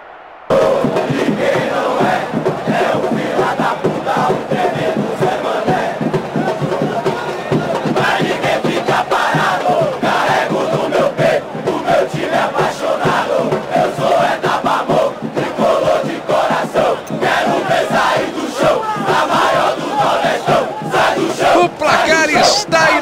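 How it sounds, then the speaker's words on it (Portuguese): A virtual stadium crowd roars after a goal in the PC football game PES 2010, a loud, sustained wall of cheering and chanting that carries on without a break. "Olha a festa da torcida!"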